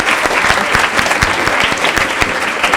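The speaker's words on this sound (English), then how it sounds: "So I'd give them a round of applause." Audience applauding at a Year 6 school graduation ceremony, a steady dense patter of many hands clapping close by with no talking.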